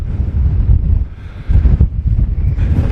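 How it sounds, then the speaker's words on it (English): Strong gusting wind buffets the microphone on exposed cliff tops at Bennan Head on the Isle of Arran, a loud, rumbling low roar that surges and dips with each gust, with no voices. "it's going to be very, very windy"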